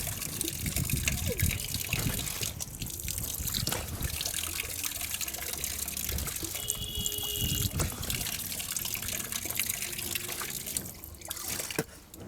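Water trickles and splashes from a tap as the face is washed during wudu, a continuous close running sound under a person speaking throughout.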